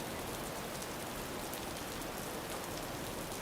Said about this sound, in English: the steady patter of drizzle fills the